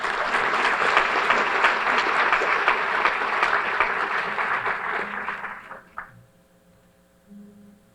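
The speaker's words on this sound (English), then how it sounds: "Please join me in thanking them with a round of applause." Applause from a middle school audience at a National Junior Honor Society induction ceremony, a steady dense clapping that fades out after about six seconds, leaving near silence with faint murmurs.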